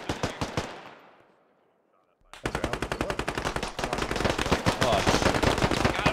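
Rapid automatic gunfire from a US-versus-insurgents battle in the video game Squad, loud close bursts that drop to silence briefly, then resume as sustained dense firing with voices shouting underneath.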